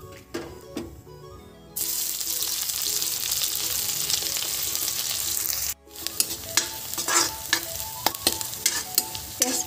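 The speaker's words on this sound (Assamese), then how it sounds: "এতিয়া দি দিম পিঁয়াজখিনি" Onions tipped into hot refined oil with cumin seeds burst into a loud, close sizzle that holds steady, then carries on with crackling and stirring clatter.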